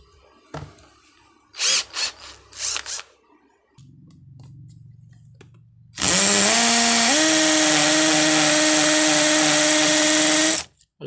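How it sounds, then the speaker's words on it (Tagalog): A cordless drill fitted with a concrete bit and set to hammer mode spins up at high speed. The whine is loud and steady for about five seconds, with the pitch stepping up once, after a few faint taps and a low hum. "I-testing natin gamit itong drill bit na para sa concrete."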